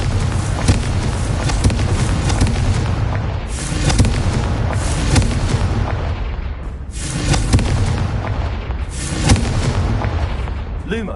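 Repeated Confringo blasting spells in Hogwarts Legacy, three or four heavy fiery booms spaced a few seconds apart, each with a crackling tail over a constant rumbling game background.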